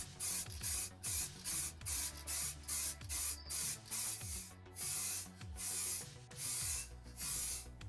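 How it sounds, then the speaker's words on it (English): Gloss white spray paint (Ford Diamond White) misted onto a replica Stormtrooper helmet in about a dozen short, rhythmic hissing bursts with brief gaps between them, close and clear with no talking. "Next up is around 3 coats of gloss white. In this case I was using Ford Diamond White."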